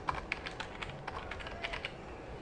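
Keys tapped on a computer keyboard while typing out a name in a paint program, a quick run of soft, close clicks at a steady pace, with no talking.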